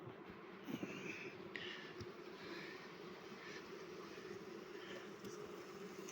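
Honeybees swarm around an open hive during a goldenrod nectar flow, with frames of brood pulled out. Their buzzing forms a steady, low, dense hum throughout, with occasional knocks and a faint higher tone. No voices are heard.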